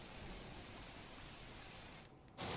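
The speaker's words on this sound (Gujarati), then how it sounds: "સુરતના વિવિધ વિસ્તારમાં મેઘરાજા વરસી રહ્યા છે" Monsoon rain pours steadily over Surat, a dense, even hiss of drops on surfaces that thins briefly near the end before returning stronger.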